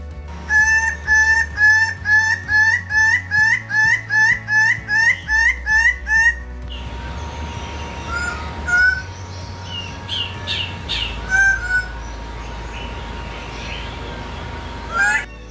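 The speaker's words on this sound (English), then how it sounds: "Here we will come across 22 aviaries housing roughly 40 species of birds." At an aviary at San Diego Zoo, a bird calls over and over in a rapid, rhythmic series of loud squawking calls. Quieter, scattered calls from other birds follow over steady background noise.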